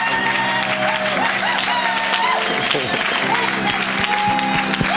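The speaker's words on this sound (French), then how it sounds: "Put your hand together for the Lord" Congregation at a church service applauding, a dense steady wash of clapping from a large crowd that continues throughout, with a voice speaking and some cheering mixed in.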